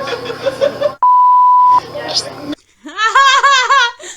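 Talk is cut by a single loud, steady censor beep lasting under a second, then talking resumes, followed by laughter.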